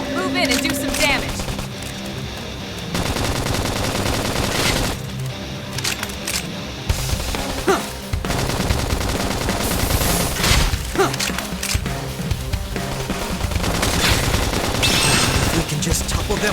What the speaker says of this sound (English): We can just topple them with gunfire.